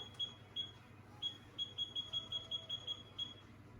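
A workout interval timer beeps in a home cardio session, a faint string of short, high electronic beeps, scattered at first and then coming in a quick regular run, over low room noise.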